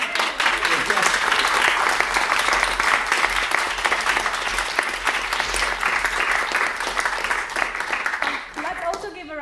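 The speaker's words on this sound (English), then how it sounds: "Let's get another round of applause." Audience applause fills a debate hall after the students' team is named winner of an economics debate, a dense sustained wash of clapping that continues steadily before tapering off at the very end.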